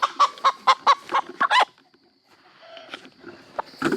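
Chickens clucking in a rapid series of short calls, then quieter scattered clucks and rustling nearby.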